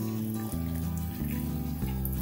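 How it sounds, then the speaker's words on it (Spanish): Two cups of water poured into a blender glass already holding spices and ingredients for Salvadoran alguashte sauce, a steady close rushing stream with a rising pitch as the glass fills, heard alone. "Le voy a colocar el agua."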